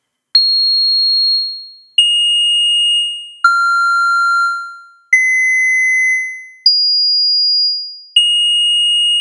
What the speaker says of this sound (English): I'm going to click a few more times just to play some more notes.